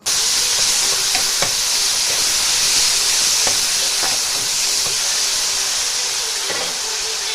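Onion, tomato, salt, turmeric, spices and stone-ground chutney frying in hot oil for a village-style Nepali fish curry, a loud, steady sizzle and hiss, with faint scraping stirs now and then.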